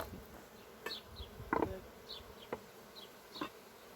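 Honeybees buzz softly around an open beehive while wax comb is moved into a mini-plus hive, a faint steady hum with brief insect passes flitting close by.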